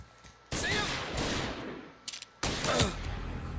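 Gunfire in the video game Mafia Definitive Edition: two loud, dense bursts of shots, the first lasting about a second and a half, the second following after a short gap, with faint voices underneath.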